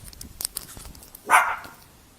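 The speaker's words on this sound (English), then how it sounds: "Dog barking." A single dog bark rings out at medium distance, brief and fairly loud, after a few faint scattered knocks in an otherwise quiet space.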